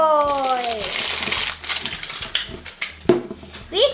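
A LOL Surprise toy ball wrapper crinkles and rustles up close as it is torn open, with a few sharp crackles and clicks between softer handling noises, while a voice is briefly heard at the start.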